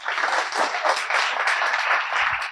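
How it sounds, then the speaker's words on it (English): Audience applause for startup founders at a demo night, a dense, even patter of many hands clapping at moderate loudness for the whole stretch. "So a round of applause for these amazing founders that we have this year on our cohort"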